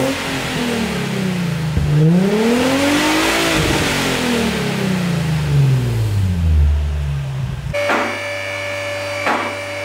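A Nissan 350Z with a loud aftermarket exhaust revs up and down repeatedly, close by and loud, its pitch rising and falling in sweeping waves before cutting off to a quieter idle with a steady hum.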